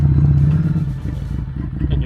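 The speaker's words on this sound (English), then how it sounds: "As you can tell, at the moment my engine is lagging." A motorcycle engine lugging at low speed in too high a gear, a close, loud, uneven low chugging rumble with slight knocking pulses that dip and return.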